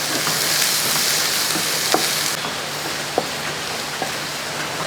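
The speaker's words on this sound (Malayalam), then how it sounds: "ഒരു മൂന്ന് സവോള ചെറുതായിട്ട് അരിഞ്ഞു വെച്ചിരിക്കുന്നു അതിലിട്ട് കൊടുക്കാം" Chopped onions sizzle steadily in hot oil on low heat for egg curry, a continuous crackling hiss with a few sharp clicks of a utensil against the pan.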